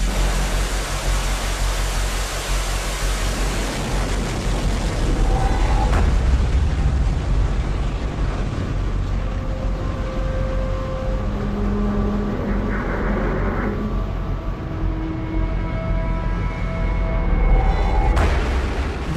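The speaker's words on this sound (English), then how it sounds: "This is a live fire exercise." A North Korean live-fire artillery exercise rumbles as a loud, sustained roar of booming blasts, with deep low rumble rolling through the whole stretch and a fresh surge near the end.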